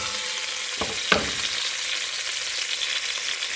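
Meat and potatoes for kuyrdak fry together in a pan with a steady, close sizzle, and two short stirring scrapes rise out of it early on.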